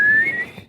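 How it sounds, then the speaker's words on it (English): A single short inhaled suck whistle from a person, a thin high tone that slides gently upward and fades out within a fraction of a second. "Yeah, I was trying a new whistle."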